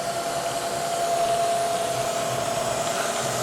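A coolant mist system runs on a drilling machine, giving a steady, close hiss with a faint thin whine through it and no breaks.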